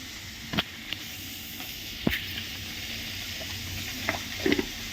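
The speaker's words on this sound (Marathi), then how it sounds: "आपण मिरच्यात तेल टाकून भाजून घेणार आहे" Chillies being roasted in oil, a village-style preparation with peanuts and cumin, give a faint steady sizzle and hiss with a few soft pops and stirring clicks.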